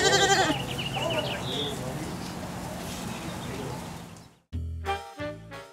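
A baby goat bleats in short wavering cries at the start, followed by a longer hiss of background noise and a few abrupt louder bursts near the end.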